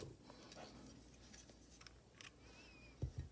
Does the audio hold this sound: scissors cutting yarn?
yes